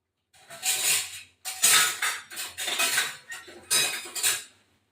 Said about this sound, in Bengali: এবার হাতা দিয়ে একটু আলুগুলো একটু গেলে দেবো।